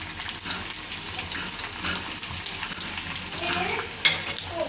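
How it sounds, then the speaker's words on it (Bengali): Chicken pasta being stirred in a pan as sauce is mixed in, giving a steady close sizzle with soft scraping strokes and a sharper clink near the end. "তো ঢেলে আমি এখন সসটার সাথে একটা মিক্স করে নিচ্ছি।"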